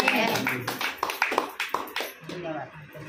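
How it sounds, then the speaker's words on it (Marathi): A church congregation claps hands in a steady rhythm of about a dozen sharp claps, mixed under a woman's continuous speech. "त्याच्यासाठी टाळ्या वाजवणार"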